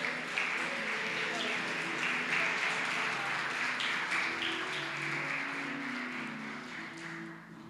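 Church congregation applauding during a sermon, a moderate wash of clapping mixed with murmuring voices and a low hum, gradually fading toward the end.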